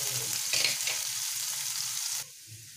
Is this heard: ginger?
yes